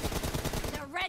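Rapid gunfire crackles in a PUBG Mobile team deathmatch, a quick run of closely spaced shots that ends as a voice cuts in.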